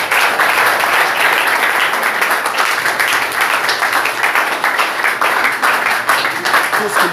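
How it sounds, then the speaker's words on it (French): Congregation applauding during a French-language church service, a dense, steady wash of many hands clapping that stays loud and unbroken throughout. "Applaudissons pour notre Seigneur."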